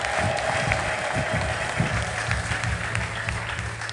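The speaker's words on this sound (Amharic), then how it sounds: "ከፍ ያለ እልልታ ከፍ ያለ ጩኸት" Dense applause from a crowd with sustained high-pitched ululating cries over it, loud and continuous throughout.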